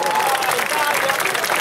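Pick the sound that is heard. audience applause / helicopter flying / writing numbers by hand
audience applause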